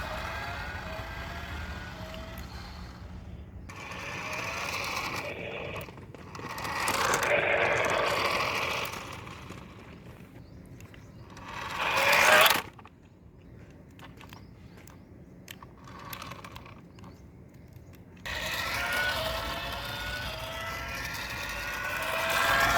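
A small RC Formula toy car whirs in bursts, its electric motor buzzing and rising in pitch with several separate runs and quiet pauses between them, close and fairly faint.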